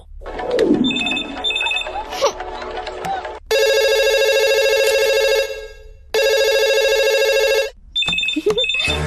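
Phone ringing in a film scene, loud electronic ringtone bursts sounding twice in long repeated blocks, with a man's speech and background noise before and between.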